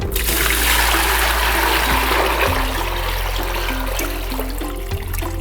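Water pours steadily into a plastic container, a loud, close, continuous gush and trickle lasting throughout with faint tonal shifts as the level rises.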